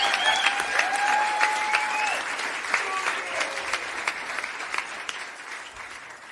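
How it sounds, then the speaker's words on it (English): Applause from an audience after a song at a listening party, steady clapping from many hands held for about six seconds and slowly tapering off, fairly close. "Applause well deserved here on the back catalog listening party."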